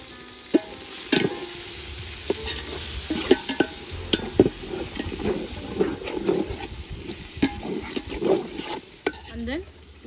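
A spoon stirs turkey biryani masala mixed with curd in a pan in a village kitchen, giving repeated scraping and wet squelching strokes over a soft sizzle, with a steady hiss underneath.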